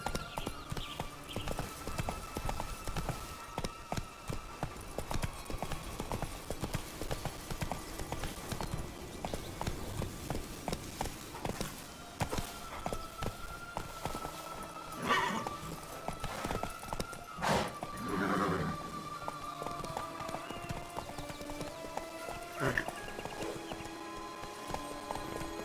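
Geralt's horse Roach gallops in The Witcher 3, a steady, rapid clip-clop of hooves running throughout, with a brief whinny and faint voice now and then.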